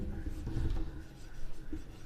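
Chalk or marker strokes on a board during a Class 10 maths lesson on quadratic equations, a steady scratchy scrawl for about two seconds with no speech over it.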